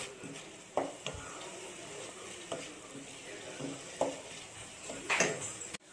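Carrots fry in ghee for carrot halwa, giving a steady low sizzle with periodic scraping stirs and a few clinks of a spoon against the pan, heard alone without talk.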